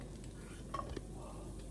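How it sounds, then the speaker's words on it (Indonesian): Onion, garlic and ginger sautéing in hot cooking oil in a home kitchen, a soft steady sizzle with a couple of light stirring clicks from a utensil against the pan, close and without talk. "Kita mau tumis dulu bawang bombay,"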